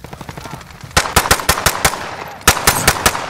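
Automatic gunfire in Call of Duty Modern Warfare: a faint rattle, then two loud, close bursts of rapid shots, each about a second long, separated by a short pause.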